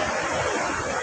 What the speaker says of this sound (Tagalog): Tabi kami ng dagat.